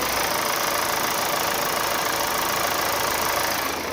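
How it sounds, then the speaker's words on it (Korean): A 2019 Volvo D5 AWD Inscription diesel sedan with about 70,000 km idles close up, giving a steady, even, continuous engine rumble with no revving throughout. "자 바로 엔진음 들려드릴게요"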